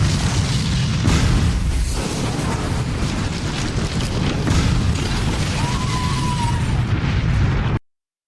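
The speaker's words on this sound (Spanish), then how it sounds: "una explosión sacudió el casco urbano de Río Piedras" A tremendous gas explosion tearing through a town center in Río Piedras, Puerto Rico: a sustained, loud, rumbling roar of blast and debris filling the whole stretch, with swelling surges, before cutting off abruptly.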